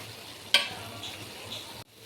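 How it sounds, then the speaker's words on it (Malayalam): Grated coconut and jaggery syrup cook down in a pan with a soft, steady sizzle and a single sharp scrape of a spoon near the start, close and moderately quiet, cutting off abruptly near the end. "തേങ്ങയും ശർക്കരപ്പാനിയും കൂടെ മിക്സായി നന്നായി വറ്റി വരുന്നുണ്ട്."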